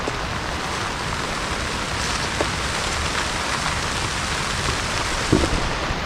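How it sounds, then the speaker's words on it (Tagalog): Heavy rain pours down steadily, a dense, continuous hiss of drops on surfaces close by, with no voices and only a couple of faint knocks. "malakas po yung ulan"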